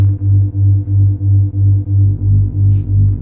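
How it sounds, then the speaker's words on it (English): A 3 hertz pulsing tone plays from a phone as a steady low throbbing hum, beating about three times per second, loud and continuous with no voices over it. "which is just 12 hours of 3 hertz frequency."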